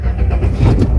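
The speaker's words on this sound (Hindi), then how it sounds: "जैसे आपने गाड़ी स्टार्ट करी" Renault Triber car engine cranking and catching, a brief close rumble rising in loudness over one second.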